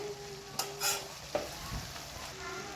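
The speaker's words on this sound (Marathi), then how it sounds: "मग त्यानंतर ह्याच्यात मेथीची भाजी सोडायची आहे भाजी मिक्स करून घेऊया" Fenugreek leaves are stirred and fried in a pan for a Maharashtrian-style methi bhaji with peanuts: a soft continuous sizzle broken by a few sharp spoon scrapes and knocks against the pan.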